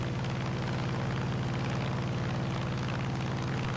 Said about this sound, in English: Oh, yeah, I could hear a jet.